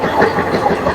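A train passes on the Howrah railway line near Chandannagar, heard from aboard an express train: a loud, continuous rumbling roar with an even, dense wash of rail and wheel noise throughout.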